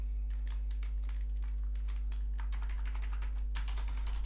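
Rapid typing on a computer keyboard, a quiet run of close key clicks in irregular bursts that grow denser toward the end, over a steady low electrical hum.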